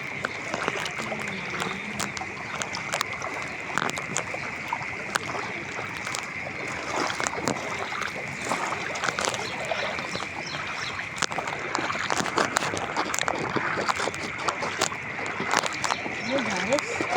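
Someone wades through knee-deep floodwater in the streets of Johar Town, Lahore, after heavy rain, with continual sloshing and splashing steps close by while a person talks over the water and birds chirp faintly.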